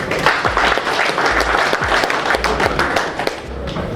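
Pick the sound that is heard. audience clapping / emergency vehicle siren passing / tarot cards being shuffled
audience clapping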